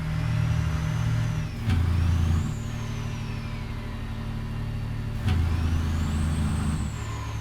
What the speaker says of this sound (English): I do love the turbo noise in this.